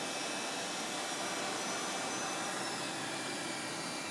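An airliner jet engine spools up, giving a steady, dense roar with a thin high whine on top that holds throughout, with no talk over it.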